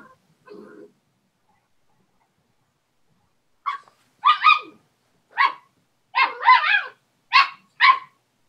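Small and big dogs bark and yip in play, several sharp close barks in quick bursts after a near-silent start with a faint brief whine.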